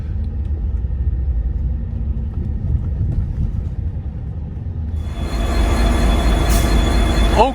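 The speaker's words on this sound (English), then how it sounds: "I'm now at the train station, gonna ride the Panama Canal Railway back to Panama City" A Panama Canal Railway train rumbles steadily at a station, then its wheels break into a loud, sustained metallic squeal near the end.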